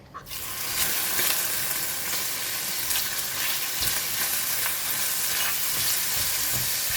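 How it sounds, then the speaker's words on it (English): Fish balls frying in a pan with leftover shallots and oil, a steady close sizzle with occasional stirring clatter running throughout, no voices. "I'm going to put in the fish ball."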